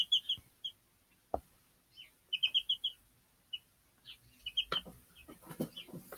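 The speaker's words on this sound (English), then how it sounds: "It looks like Queen Chick is not hungry right now" A pet chick gives several quick, high clucks and peeps in short bursts, close and clear, with soft handling knocks and rustles between them.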